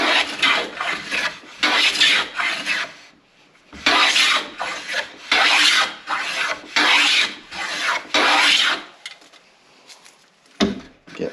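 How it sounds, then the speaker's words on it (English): A tuned No. 5 hand plane set up as a scrub plane takes aggressive passes over wood. It makes a series of rough, raspy strokes with short pauses between them, close and clear, with no talking. "we're gonna use our fancy new number 5 that we just tuned up to be a"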